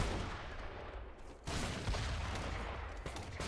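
Mortars firing in the Age of Empires 3 strategy game, a dense, loud barrage of overlapping booms and crackling blasts that rumbles continuously with a brief dip partway through, and no voices over it.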